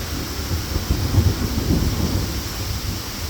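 Heavy rain pours steadily during a storm with low rumbling thunder rolling underneath, wind gusting against the microphone; a dense, continuous wash with no one speaking.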